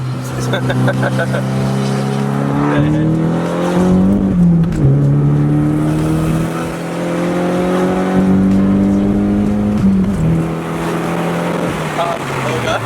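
A lightweight SR20-swapped Nissan 240SX accelerating hard through the gears from inside the cabin, engine note climbing steadily then dropping at each shift, with passengers talking over the drone.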